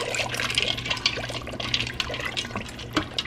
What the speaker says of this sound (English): both cans of chicken broth, the paprika, and your noodles. And I'm gonna stir that all up.